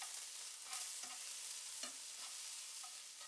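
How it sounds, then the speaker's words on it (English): Garlic and eggplant sizzle gently in a pan while a utensil stirs and scrapes through them, producing soft rhythmic scraping over a quiet steady fry, no talking. "Thoroughly stir the garlic through the eggplant."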